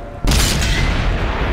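A tank cannon fires in World of Tanks on Xbox, a sudden loud, close boom that cuts in and rolls into a long, heavy, wide rumble that fades slowly.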